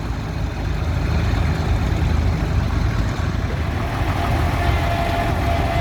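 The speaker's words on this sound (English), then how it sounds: "as the tractors leave the arena" Vintage tractors at the Aldham Old Time Rally drive out of the arena, with a loud, steady engine drone and low rumble that continue throughout without talk.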